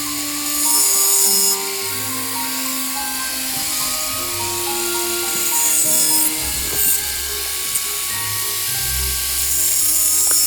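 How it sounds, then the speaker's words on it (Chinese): A grinder grinds down protruding screw heads on a wooden garden gate, a loud continuous abrasive whine with shifting pitch and rough grinding bursts, no talk. "我会用 grinder 把这个多出来的钉子头把它磨平"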